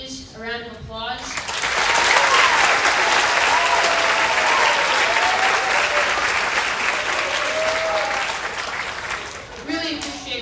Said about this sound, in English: Let's go ahead and give Mrs. Wagner and Mrs. Bridges a round of applause.